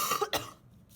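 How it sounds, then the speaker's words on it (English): An adult with a cold-season cough during a drawing lesson gives a couple of sharp, close coughs in quick succession, then goes quiet. "I apologize for my coughing, ladies and gents."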